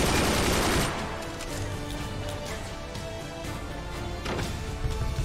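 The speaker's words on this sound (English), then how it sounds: "those machine guns there at the bottom are not going to stop the mortars." Machine gun fire in the artillery strategy game Forts, battling AI bots: a loud, dense burst opens, then rapid fire continues steadily at a lower level with periodic sharper volleys.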